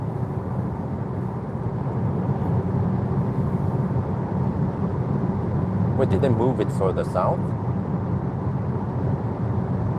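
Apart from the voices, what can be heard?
road noise inside a VW ID.3 electric car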